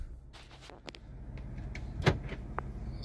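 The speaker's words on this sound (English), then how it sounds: "actually let me shut this door here" Inside a silver GMC Sierra SLT 4x4 Crew Cab Z71 pickup, a truck door shuts with one solid thunk midway through, preceded by faint clicks and light rustling against a quiet cabin background.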